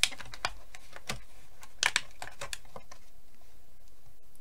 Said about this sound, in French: je vais essayer de couper ça au massicot